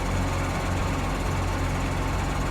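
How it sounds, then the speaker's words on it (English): A steady, droning tractor engine in Farming Simulator 19 idling continuously, loud and even, with a low rumbling throb and no voices. "Even the tractor sounds nice."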